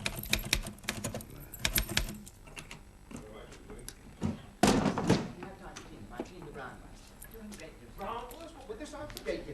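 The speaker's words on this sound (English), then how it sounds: "Isn't that Miles' typing?" Typewriter typing in a 1970s British whodunnit: rapid irregular key strikes clattering in quick bursts, with a heavier thump partway through and other noises around it.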